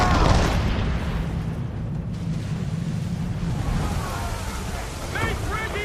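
A ship's cannon fires in a naval battle in Assassin's Creed 3, a heavy booming blast at the start that rumbles out into churning wind and water, with shouted voices near the end.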